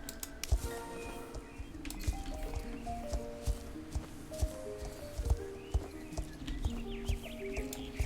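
Horse hooves clip-clop at a steady trotting pace, close and fairly loud, with a few whinnies and game-like ambient tones in the background.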